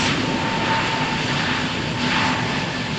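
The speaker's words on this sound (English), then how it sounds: "EasyJet to Amsterdam is cleared for takeoff. Speed 42 knots" EasyJet jet airliner bound for Amsterdam rolling for takeoff at Malaga on a cold, stormy morning, a continuous loud engine roar with a faint whining tone, steady throughout with no talking.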